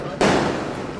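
A single loud burst of fireworks during a Mid-Autumn Festival rooftop gathering starts abruptly and leaves a broad crackling rumble that fades slowly, with voices around it.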